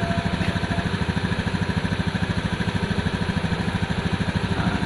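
Engine held at a low idle, a steady, even pulsing throb with a fast regular rhythm that stays constant and fairly loud close by, with no rise in revs.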